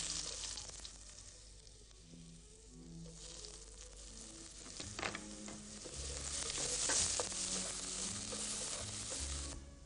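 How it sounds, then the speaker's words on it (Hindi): Chopped onion sizzling in hot oil in a pan, a steady loud crackling hiss with occasional stirring sounds, continuous throughout. "और अब इस गरम तेल के अंदर ये कटा हुआ प्याज डालें।"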